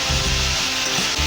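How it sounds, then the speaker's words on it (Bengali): Broccoli fries in a pan with no spices, giving a steady close sizzle broken by soft scraping and stirring sounds over its short span. "আমি এই ব্রোকলি ভাজবো, আর কোনো মশলা নয়।"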